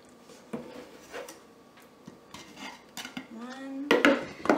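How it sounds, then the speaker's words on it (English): Flour is sifted for chocolate chip cookies in a home kitchen, with scattered clinks and clatters of metal utensils and bowls, a few scraping rattles and knocks, close by and uneven in rhythm. "next we're going to be sifting our dry ingredients"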